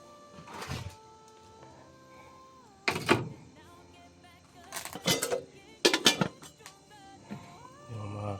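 Metal cooking pots being handled in a rural hut, several sharp clanks and scraping knocks in separated bursts, fairly close, with quiet gaps between them.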